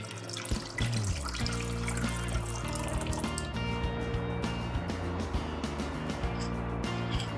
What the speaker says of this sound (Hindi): कढ़ाई में डालेंगे लगभग 2 ग्लास पानी